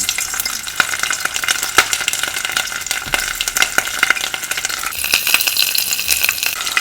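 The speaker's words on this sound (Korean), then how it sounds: "요 삼겹살 기름 부분을 먼저 이렇게 튀겨줍니다" Pork belly fat fries in a hot pan with a loud, dense sizzle and a steady crackle of popping bursts that continues throughout without any voices.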